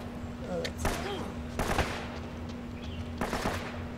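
Video game gunfire from Uncharted: Drake's Fortune, heard as a few separate bursts of shots spaced across the moment, moderately loud over a steady hum of game ambience.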